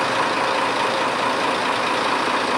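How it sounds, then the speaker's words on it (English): Road traffic streams past on a busy Autobahn near Vienna, Austria, making a loud, steady, close roar of engines and tire noise that stays constant throughout with no talking. "Traffic is streaming by."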